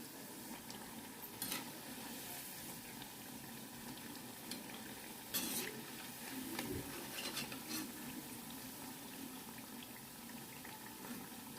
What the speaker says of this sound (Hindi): देखिए पकौड़े मैंने धीमी आंच पे बना रही हूँ